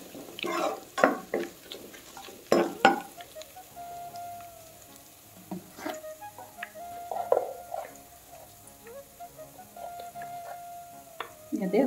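Ginger and garlic fry in a pan, with soft sizzling under sharp clacks and scrapes of stirring and utensils against the pan at close range.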